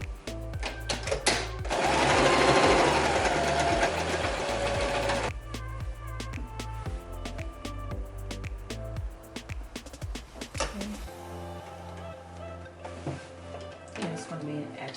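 A sewing machine stitches down the seam of a pencil skirt, its rapid mechanical whirring running in loud bursts close by, stopping and restarting, with a person talking in between.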